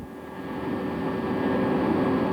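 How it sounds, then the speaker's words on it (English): Helicopter in a convoy of three ferrying relief supplies to refugee centres near Kukës during the 1999 Kosovo conflict, its rotor and engine roar loud and steady from inside the cabin, rising slightly, with no talk. "We travelled with that first convoy of 3 helicopters."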